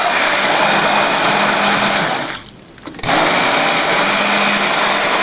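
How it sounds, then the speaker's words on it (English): A blender purees organic winter squash soup with a loud, steady whir. Just past the midpoint the motor briefly winds down, then it surges back to full speed. "So we're going to just puree this, and it will be ready to go."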